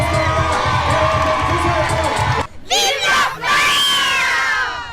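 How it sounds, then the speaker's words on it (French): A large crowd at the Olympic torch relay on the Saint-Paul landing stage in La Réunion cheers and shouts loudly, with whoops and a rising roar after a short dip. "On peut applaudir Monsieur Ariegui."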